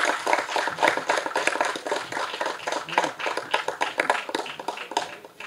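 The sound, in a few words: audience clapping at a movie audio launch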